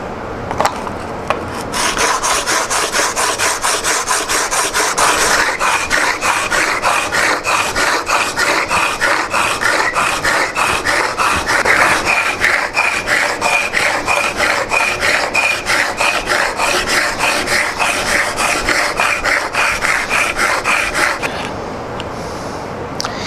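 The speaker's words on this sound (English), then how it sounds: "hold the chisel flat on the surface and just simply start rolling back and forth." Chisel rubbed rapidly back and forth on an abrasive sharpening grit surface, a close, continuous rhythmic rasping that runs for about twenty seconds before stopping.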